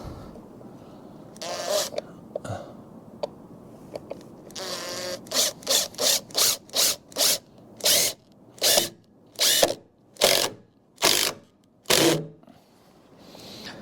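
Screws are driven into timber joists by a power driver while packing steel for joists, heard as a long buzzing run followed by a steady series of about ten short, close bursts with pauses between.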